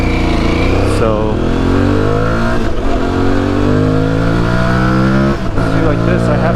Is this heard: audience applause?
no